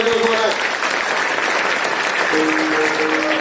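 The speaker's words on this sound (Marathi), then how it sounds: "एकदा टाळ्या" An audience at a kirtan gathering breaks into a burst of steady clapping that fills the hall, loud and sustained, with some crowd noise underneath.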